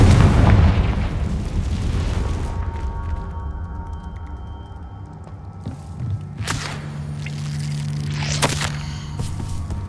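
A Confringo blasting spell detonates in Hogwarts Legacy with a loud, booming explosion that rumbles and fades over a few seconds, followed by further sharp magical bursts and crackles later on.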